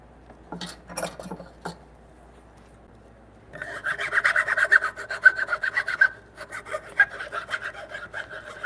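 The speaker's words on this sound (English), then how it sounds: "Let me take my little file and go in here, file this mess out." Small hand file working inside a wooden through-mortise in a timber-frame bunk bed, with a few short rasping scrapes, a pause, then a longer run of steady close rubbing strokes.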